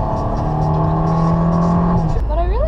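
A Fiat 500L's small engine drones steadily with a rising whine, then cuts off and revs up again with a climbing pitch, heard up close.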